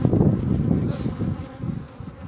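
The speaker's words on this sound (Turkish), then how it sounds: "Yok bunlar erkek arı." Honey bees, including drones, buzz from a Hungarian-bred beekeeping hive, a close, dense and continuous droning hum with no talk.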